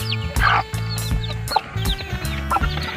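Backyard chickens cluck in close, repeated bursts while a rooster joins in among chicks, a busy, loud flock chatter with short rhythmic calls and no talking.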